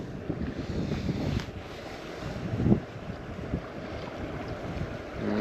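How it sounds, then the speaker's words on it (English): Wind gusting over the Deschutes River, a low buffeting rumble on the microphone with a stronger gust near the middle, water lapping faintly beneath. "And here comes that wind."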